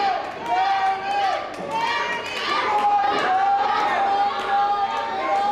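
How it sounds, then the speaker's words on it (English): Wrestling fans at a live match cheer and shout in a steady, dense crowd roar, with excited voices and shrill calls rising throughout. "Fans are equally cheering for both men."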